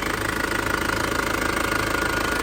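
A 2001 Isuzu Panther LS automatic diesel engine idling on its turbo timer after the key is pulled, a steady, close, rough knocking rumble with even rhythm and no talk.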